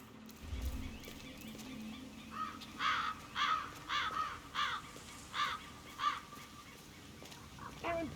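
Crows caw in the Hitman 3 video game, a series of about eight harsh, evenly spaced calls at moderate distance over a faint ambient background, with no voices.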